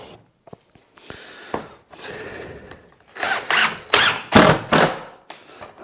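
A power drill drives a screw into a hard knot in wood during a farmhouse door build, starting with scattered short clicks, then rising into several loud grinding bursts of strained drilling close by.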